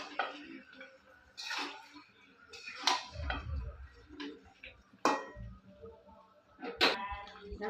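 Meat being stirred in a pot after water is added, a series of irregular metallic spoon clinks and scrapes against the pot, fairly close, with faint low bubbling between them.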